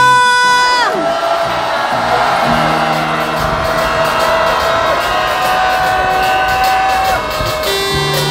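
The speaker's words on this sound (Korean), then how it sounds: "오염수 해양투기 반대의 함성을 질러보겠습니다" A street protest crowd near Seoul City Hall station, opposing Fukushima wastewater discharge, lets out a loud sustained roar of shouting and cheering. Whoops and raised voices merge into one dense wall of sound that lasts throughout.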